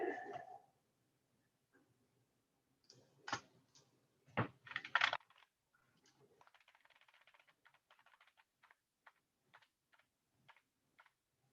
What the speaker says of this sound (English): Cat stepped on my keyboard,